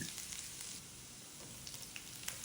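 Crushed garlic and green chillies frying in a pan give off a soft, steady sizzle with a few faint crackles and spatula scrapes, quiet and close.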